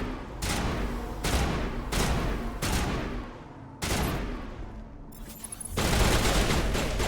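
A sniper rifle in Mass Effect fires a series of heavy, booming shots, about six spaced roughly a second apart, each with a long ringing decay, loud and close with no talking.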